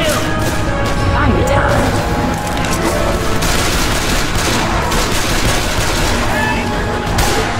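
Sustained automatic gunfire from a mounted machine gun nest in Left 4 Dead 2, loud and continuous with crashing impacts and booms layered in, while players talk over the din.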